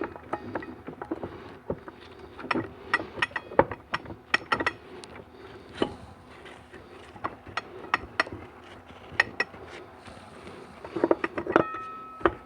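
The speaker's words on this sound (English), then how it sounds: "Chain and gears, just set them down on there." Metal chain and gears for a GM NP246 HD transfer case from a Silverado 1500HD are set down, giving scattered sharp clinks and clatters at an uneven pace close by, with no talking.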